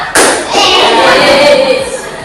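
Classroom clapping game, with a burst of hand claps from a class of students, then a sustained wash of clapping and voices that fades slightly toward the end.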